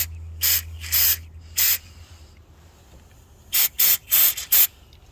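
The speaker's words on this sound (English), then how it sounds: "I'm gonna put some rust check on the terminals so they don't corrode in the future." Rust Check sprayed onto car battery terminals on a 1999-2004 Mustang: a short burst, two more separated hisses, then a quick cluster of four sharp aerosol bursts, loud and close over a low steady hum.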